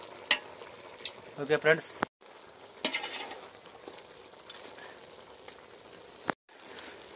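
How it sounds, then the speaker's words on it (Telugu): Chicken pieces stirred and pressed with a ladle in a frying pan, giving soft scraping clanks and sizzle in bursts at close range over steady low background noise, with a voice briefly speaking. "ఇప్పుడు మా ఫ్రెండ్ బాగా దాన్ని తిప్పుతున్నాడు, బాగా గంటితో ప్రెస్ చేస్తున్నాడు"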